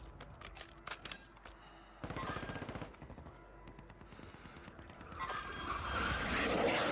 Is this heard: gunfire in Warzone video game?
yes